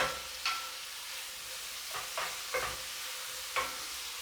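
Mushrooms cooking in their own juices in a pan for a creamy mushroom risotto give a soft, steady sizzle, broken by a few sharper stirring scrapes at irregular moments; no one speaks.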